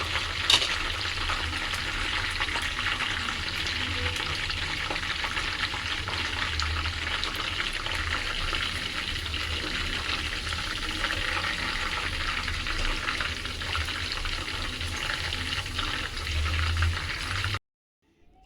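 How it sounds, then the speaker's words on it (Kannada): Soya kababs deep-frying in oil give a dense, continuous bubbling sizzle with fine crackling, steady and close for the whole stretch before cutting off abruptly at the end. "ಚೆನ್ನಾಗಿ ಫ್ರೈ ಆಗಿದೆ."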